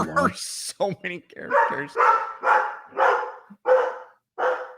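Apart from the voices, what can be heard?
dog barking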